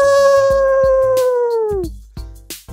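A person imitates a dog howling with one long, steady, close howl that fades and drops in pitch, followed by a few sharp knocks and clatters.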